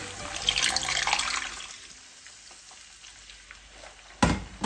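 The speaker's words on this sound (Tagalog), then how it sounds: "Lagyan na po natin ng tubig." Water splashes and hisses into a hot pan of golden-browned whole chicken for adobo, the sizzle settling into a quieter bubbling simmer, with a few clinks of utensils near the end.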